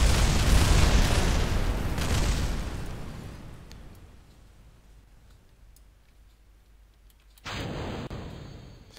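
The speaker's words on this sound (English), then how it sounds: "you get explosions in this episode" Rocket explosions in Kerbal Space Program, a loud rumbling blast that fades over several seconds, then a second sharp burst near the end.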